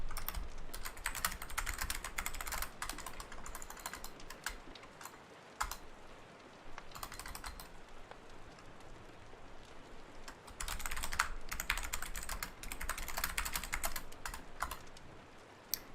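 Steady typing on a computer keyboard while writing, dense clusters of keystrokes with brief pauses, close and fairly loud, no talking.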